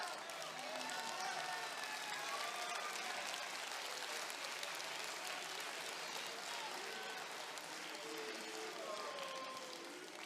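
A large crowd applauds steadily at a Crystal Palace kit launch for the 2016/17 season, unveiling Palace Ladies and first team kits; dense, continuous clapping with some cheering, fairly distant and even throughout.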